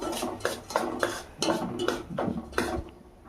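A spoon scrapes and clinks rhythmically against a pan while stirring semolina for a sweet dish, about eight close, distinct strokes at a steady pace with no talking.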